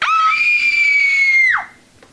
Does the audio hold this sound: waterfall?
no